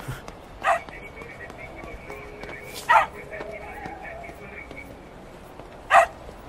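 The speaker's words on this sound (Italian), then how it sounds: "Calmati! Bravo, cagnolino!" A cartoon-style dog in the Tintin Secret of the Unicorn video game gives three short, separate barks spread across several seconds, over a steady game background where a voice speaks.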